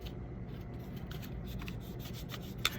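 A Godhand Kamiyasu 10,000 grit sanding sponge rubs lightly and steadily over a surface, giving a soft, continuous close-up rasp with a faint click near the end and no talking.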